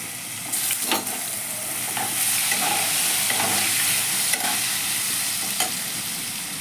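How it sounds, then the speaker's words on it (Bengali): Diced potatoes fry in a pan with a steady, bright sizzle, punctuated by occasional scraping taps as they are stirred. "কিছু ডুমো আলু করে রেখেছি, সেটা ভেজে নিচ্ছি।"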